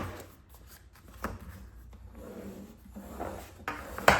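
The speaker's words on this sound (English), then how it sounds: "Going to use my bone folder for a bit." A bone folder rubs and scrapes along folded paper to crease it for a junk journal, soft close-up rasping strokes in short, uneven passes with no talking.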